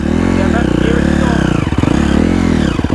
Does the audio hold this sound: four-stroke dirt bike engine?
yes